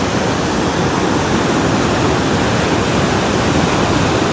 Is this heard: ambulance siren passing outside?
no